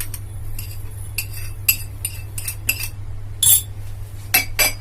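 A metal spoon clinks repeatedly against a bowl while sugar is stirred in during yeast preparation for zalabia dough, a steady series of light, close chinks over a constant low hum, with no talking.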